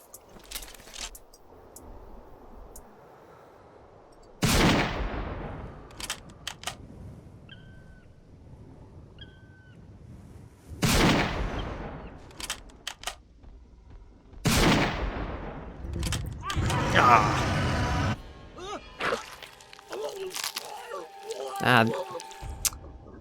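Gunshots fired at a T-Rex in the Carnivores: Dinosaur Hunt game, three loud sharp reports spaced several seconds apart, each with a decaying tail, followed by rumbling crashing game noise and a voice talking.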